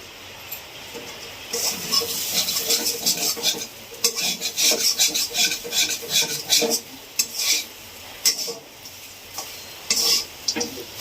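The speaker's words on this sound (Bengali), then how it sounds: "এবার আমি ধনে জিরের গুঁড়োটা দিয়ে দিচ্ছি, দিয়ে আবার একটু নাড়াচাড়া করব" A spoon scrapes and stirs potato filling in a pan for samosas after coriander-cumin powder goes in, giving close, steady scraping and rubbing with metal clinks and a faint sizzle throughout.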